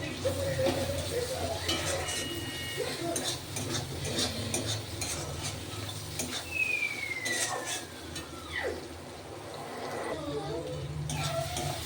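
Tomatoes are sautéed and stirred in a pan for peas kuzhambu, with steady sizzling, a spoon scraping and clinking, and someone speaking over the cooking.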